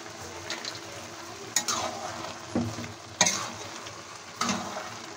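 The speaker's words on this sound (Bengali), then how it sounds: "নেড়ে চেড়ে দিয়ে দিচ্ছি" Grated carrot halwa being stirred in a pan, with a steady sizzle and frying hiss and a few distinct scraping strokes of the spoon against the pan, close and clear with no talking.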